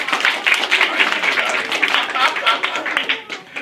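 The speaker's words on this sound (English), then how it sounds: "Thunderous applause." Elementary school children in an assembly break into applause, a busy mix of many small hands clapping with excited voices mixed in, lively and fairly close.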